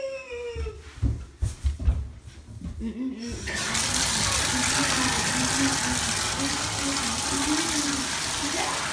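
Tap water pours steadily into a bathtub, a dense continuous rush that starts abruptly partway through and holds at an even level, after a few seconds of muffled knocks and handling noises.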